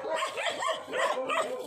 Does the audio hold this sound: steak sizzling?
no